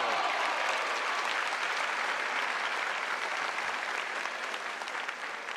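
A studio audience at a Thai televised singing competition applauds steadily, dense and sustained clapping filling the whole stretch without any voices, fading slightly near the end.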